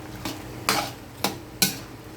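A pan of sautéed opo squash with shrimp and chili gets stirred, four sharp utensil scrapes and knocks against the pan over a soft sizzle.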